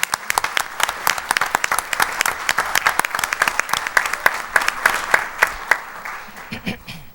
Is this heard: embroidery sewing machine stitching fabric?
no